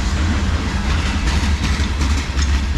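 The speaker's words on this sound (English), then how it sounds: "CSX M422 chugging eastbound." A CSX manifest freight train, M422, rolls slowly eastbound close by, with a loud, continuous low rumble of wheels and cars and a heavy engine drone beneath it.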